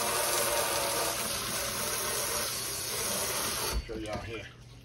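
Hot water runs steadily from a kitchen tap as a knife is dipped in it to cut chocolate fudge; the loud, even gush stops near the end, leaving a few drips and clinks.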